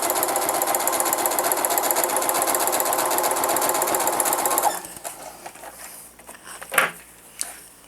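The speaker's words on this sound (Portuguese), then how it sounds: "Costurei um lado, vou voltar costurando o outro bem na beiradinha, do mesmo jeito." A sewing machine stitching along the edge of a fabric wallet runs with a loud, fast, continuous mechanical whir for several seconds, then stops, leaving a few quieter clunks and handling knocks.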